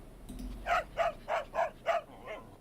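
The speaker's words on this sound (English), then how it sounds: "A dog." A cartoon dog in the I Spy Junior video game barks five times in a steady rhythm, each bark clear and evenly spaced, with a softer sixth yelp trailing off at the end.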